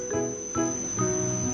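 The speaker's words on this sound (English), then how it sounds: "frog croaks" A frog croaks in three evenly spaced calls over a steady high-pitched insect-like trill, close and fairly loud with no speech.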